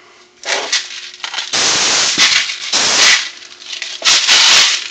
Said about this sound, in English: the air will go in and shoot them out one at a time